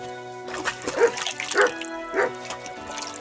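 A dog in the video game Kingdom Come Deliverance 2 gives a few short barks and yips with some whimpering, spaced apart over soft background music.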